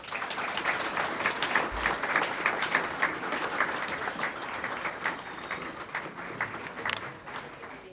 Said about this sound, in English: let's give Eli a round of applause